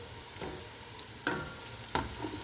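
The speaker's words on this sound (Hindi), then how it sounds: "ये देखिए प्याज जो है वो ब्राउन होना शुरू हो गई है।" Onions sizzle and brown in a pan with a steady close hiss, broken by a few louder scraping strokes of a spoon stirring them.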